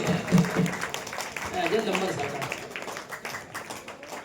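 Applause at a prize-giving ceremony held by a religious school, a scattered crowd clapping at moderate distance that fades gradually, with someone speaking over it.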